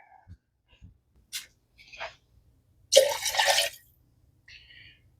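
Water is poured into a measuring cup in one short splashing pour lasting under a second, close and clear, surrounded by a few light clinks and handling sounds in a quiet room.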